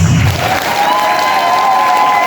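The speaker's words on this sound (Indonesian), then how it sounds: "kita berikan aplaus yang luar biasa untuk beliau" Loud, sustained applause from an audience for the regent of Purbalingga at an agricultural outreach gathering, a dense steady wash of clapping lasting throughout with a faint hum beneath.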